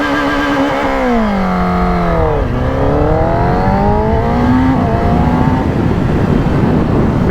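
A Kawasaki ZX10R sport bike engine revs loud and close, its pitch dipping and climbing in a sustained, rough-edged howl, without reaching full throttle.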